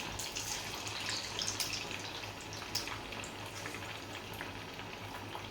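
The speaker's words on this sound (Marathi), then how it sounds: "मी आता हे वडे टाकून घेत आहे" Continuous soft sizzling and bubbling of vadas frying in hot oil, fairly quiet, with occasional light pops and a low hum behind it.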